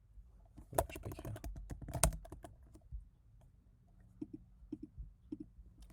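Keys clatter on a computer keyboard as notes are typed into Notion, in quick close-up bursts with short pauses, then a few softer isolated taps.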